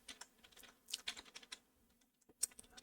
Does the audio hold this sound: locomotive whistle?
no